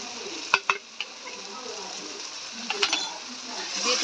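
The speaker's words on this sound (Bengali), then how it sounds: "ভালো করে কষাই নেব কাজু বাদাম বাটা আদা রসুন এগুলো সব কষানো হয়ে গেছে" Ground spices fry with cashew paste, ginger and garlic in a pan with a soft sizzle, punctuated by several sharp scraping clicks of a spatula against the pan in two short bursts.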